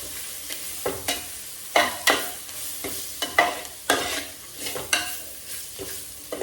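Garam masala mixture frying in a pan while being stirred, a sizzling bed broken by regular scraping strokes roughly every half second, close and fairly loud, no talking.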